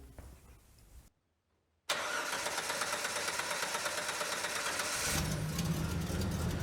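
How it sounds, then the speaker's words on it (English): A car engine that is hard to start after sitting about ten minutes cranks briefly, falls silent, then fires and settles into a loud, steady running drone whose tone shifts slightly near the end. "So, the engine eventually fired, just as the customer explained."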